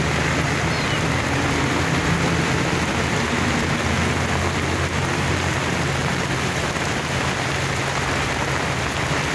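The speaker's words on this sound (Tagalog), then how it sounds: "Pag unang bugso talaga, malakas, eh." A loud, unbroken downpour over Manila Bay roars on, thick rain hammering surfaces in a constant wash of noise.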